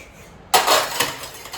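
Dishes being scrubbed and washed by hand at home: after a brief quiet start, close clattering clinks and scraping of pots and utensils follow in quick succession, with no voices.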